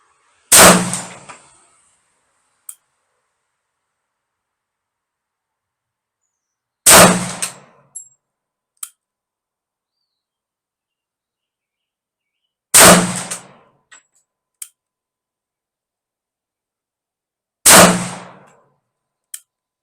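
Ruger P90 pistol fired in single action, four loud, sharp shots spaced several seconds apart, each followed by a brief ring and the faint clink of brass landing, with no talking.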